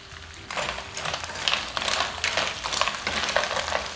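Clams and mussels sizzle in a frying pan over a medium flame, a steady crackling hiss that swells as they hit the hot pan and keeps going, close up with no talking.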